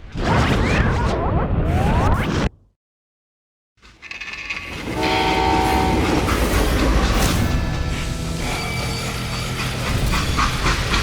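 A freight train in the Call of Juarez: Gunslinger video game rumbles loudly, cuts to a brief silence, then returns with rolling rail noise, clattering wheels and sustained whistle-like tones.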